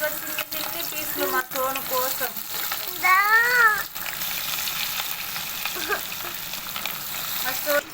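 Small fish pieces fry in oil with a continuous sizzle, while a voice talks intermittently over it and brief clinks sound from the pan.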